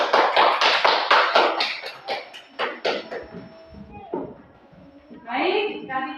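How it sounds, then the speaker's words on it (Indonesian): Classmates in a school lesson applaud a group of students after their presentation. A burst of rhythmic clapping fills the first few seconds, then fades into a quieter room before a voice starts speaking. "Tepuk tangan untuk kelompok 2."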